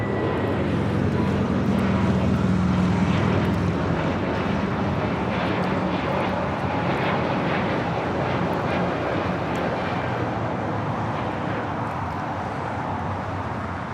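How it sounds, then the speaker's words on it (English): Viva Aerobus flight 623, an Airbus A321neo, departs LAX for Monterrey with a loud close jet roar and low engine drone that peaks early, then slowly fades as the aircraft climbs away, with no one speaking. "This is Viva Aerobus 623 taking off to Monterrey, Nuevo León, Mexico on an A321 Neo."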